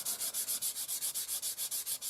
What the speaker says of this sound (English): So a bit of rough sanding first with this 4 model sander sponge.